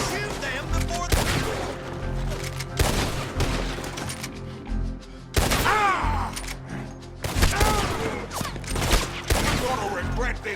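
Bursts of gunfire from a Red Dead Redemption 2 shootout come in loud, close volleys of rapid shots, broken by brief lulls, with shouting voices mixed in.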